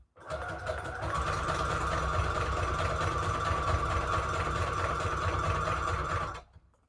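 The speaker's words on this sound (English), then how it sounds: "I'm sewing it with the pretty part going to be outside instead of like the part where you open it right here" Sewing machine stitching an envelope of decoupage napkin and book paper, one continuous steady hum lasting several seconds, close and alone, ending abruptly.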